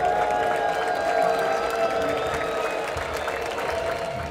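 Football crowd in a stadium at the end of the first half of a Copa do Brasil match, a broad, sustained roar from the stands that gradually fades, heard from a distance with a soft tonal hum underneath.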